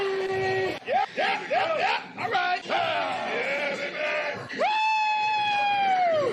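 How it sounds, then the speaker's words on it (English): A bodybuilder's recorded screams cut together as a compilation: a run of short rising yells and shouts, then one long sustained loud bellow, all up front and continuous. "It's a compilation of him screaming."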